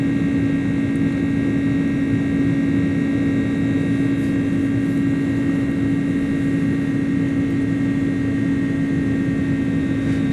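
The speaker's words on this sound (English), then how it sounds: "That sound of the engines is great" Airbus A300-600 jet engines in Microsoft Flight Simulator, a steady loud drone with a constant whine held evenly throughout while the airliner accelerates, no talking over it.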